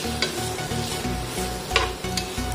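Onions sizzle steadily in hot oil in a pan for chicken stew while a utensil stirs them in repeated scraping strokes, close up, with a constant frying hiss underneath.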